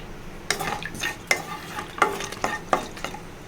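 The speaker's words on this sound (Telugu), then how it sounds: "కొంచెం ఆవాలండి కొంచెం మినపప్పు ఒక ఎండుమిర్చి" Mustard seeds, urad dal and a dried red chili frying in hot oil for a simple brinjal-tomato curry, with several sharp crackling pops and sputters over a low steady sizzle, close and fairly loud.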